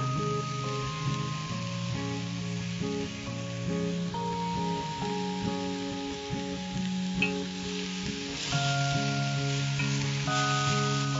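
Banana flower with a little turmeric sautéing in a pan, a continuous soft sizzle with stirring scrapes, nearly masked by steady background music throughout.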